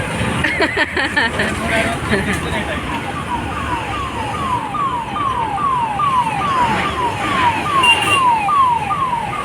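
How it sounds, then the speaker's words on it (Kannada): An ambulance siren wails in a steady repeating sweep from about two seconds on, growing louder as it passes along a shopping street in Honnavar, with traffic noise and occasional voices underneath. "ಆಂಬ್ಯುಲೆನ್ಸ್ ಹೋಗ್ತಾ ಉಂಟು"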